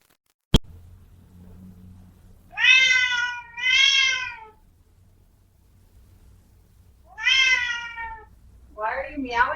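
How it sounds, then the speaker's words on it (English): A domestic cat meows loudly three times in drawn-out, wavering cries close to the microphone, followed by a shorter rising call, over a low indoor hum after a sharp knock at the start. "Why are you meowing like that?"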